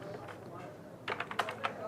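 Web address typed on a computer keyboard, a short run of quick, close key clicks that follows a moment of quiet room tone, with faint talk in the background.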